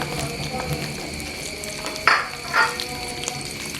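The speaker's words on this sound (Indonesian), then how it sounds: "Yang terakhir goreng asin." Salted gourami fish (asin sepat) sizzles steadily in hot oil in a frying pan, a close, continuous crackle with a couple of brief louder spatters midway.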